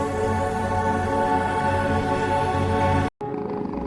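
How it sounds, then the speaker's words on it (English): A steady, close-up rumbling purr with a low harmonic hum, continuing evenly before a brief cut near the end. "A sound rose from her chest, fragile, trembling, a purr she didn't know she still had."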